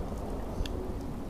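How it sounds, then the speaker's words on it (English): Rain falls in the video game Fallout 4 as a steady, continuous hiss of moderate loudness, unbroken for the whole stretch with no voices. "of course it's now raining and miserable because of course it is"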